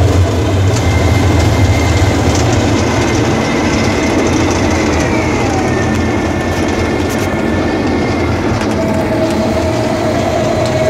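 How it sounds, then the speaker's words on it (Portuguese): A John Deere crawler tractor drives in third gear, giving a loud, steady engine drone with continuous mechanical clatter that holds at the same level throughout, with no talk. "É, anda bem o trator."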